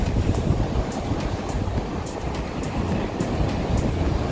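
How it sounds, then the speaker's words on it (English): Surf rolls onto a long, open beach, a steady broad wash of breaking waves mixed with wind buffeting the microphone, continuous and fairly loud with no talking. "then that's this endless beach"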